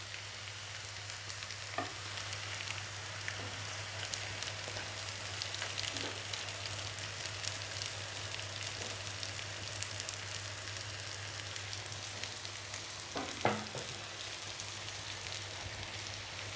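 Egg white frying in a pan: a faint, steady sizzle with a low hum beneath and a few soft clicks, no voices.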